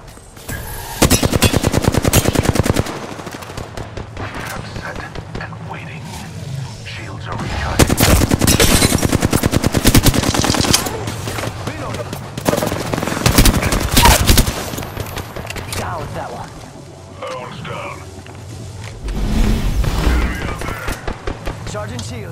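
Automatic gunfire bursts in the battle royale video game Apex Legends, loud and repeated in several clusters of rapid shots with game voice lines and effects around them.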